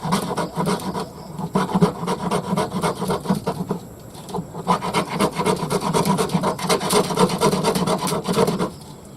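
A blade repeatedly scraping along a piece of fatwood, making a close, loud, rhythmic raspy rubbing with steady strokes, broken by a brief pause midway before the scraping resumes.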